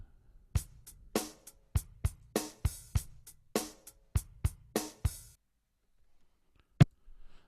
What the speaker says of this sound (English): So let's say if we have a drum loop that sounds like this.